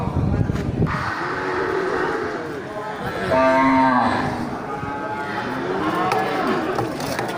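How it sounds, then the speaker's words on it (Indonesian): Aceh cattle low and moo at a busy livestock market, with several long, drawn-out calls overlapping against constant crowd murmur and background bustle; one loud, close bellow stands out in the middle. "di luar dari sal bagian tengah juga ini kan banyak kumpulan sapi-sapi Aceh."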